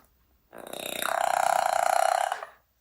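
A parrot imitates a burp, one drawn-out, buzzy, rattling belch lasting about two seconds, close and clear against silence.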